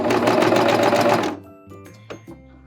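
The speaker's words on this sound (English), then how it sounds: "I want you to serge all the way to the very end." A serger overlock sewing machine runs fast and loud for just over a second as it stitches off the end of the fabric, then stops, leaving a low hum and a few small mechanical clicks.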